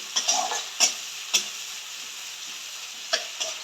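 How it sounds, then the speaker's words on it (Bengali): Chopped onions sizzle steadily in hot oil for a brown fry, with a few sharp scraping stirs of a spoon against the pan breaking through the constant hiss; no voices. "এবার আমি এর মধ্যে দিয়ে দেব কুচানো পেঁয়াজ পেঁয়াজটা দিয়ে ব্রাউন করে ভাজতে হবে"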